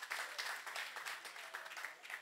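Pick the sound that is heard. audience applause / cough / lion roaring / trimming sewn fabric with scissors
audience applause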